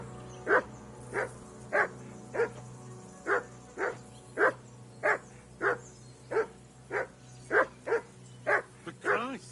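A dog in Kingdom Come Deliverance 2 barks in a steady run of about fifteen sharp, evenly spaced woofs over nine seconds, close and fairly loud above a low constant hum.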